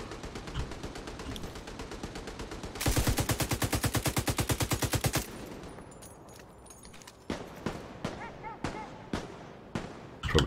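Gunfire in The Division 2: a fast automatic burst rattles for a couple of seconds, then separate sharp single shots crack at irregular intervals, moderately loud, amid game ambience.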